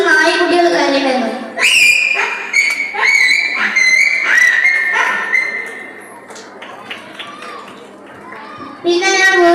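A voice imitates crying puppies with close, high whining yelps and whimpers in repeated bursts, some rising and falling in pitch, followed by a quieter stretch and a final whine.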